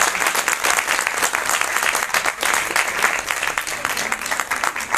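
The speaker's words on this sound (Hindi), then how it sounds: "जोरदार तालियों से स्वागत कीजिए अपर निदेशक महोदय का" A large audience at a science festival event in Uttarakhand claps steadily in loud, dense applause that holds for the whole stretch as a guest of honour is welcomed onto the stage.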